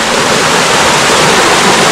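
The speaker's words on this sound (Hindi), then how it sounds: "पानी का बहाव तेज है" A fast-flowing stream beside a forest hiking trail near Islamabad, heard as a loud, continuous broadband rush of water close to the microphone with no voices.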